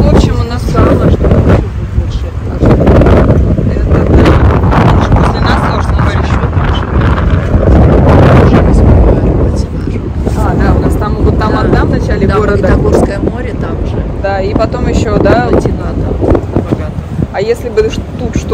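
Strong wind buffets the microphone with a constant low roar near the Magnitogorsk dam, and people talk over it throughout.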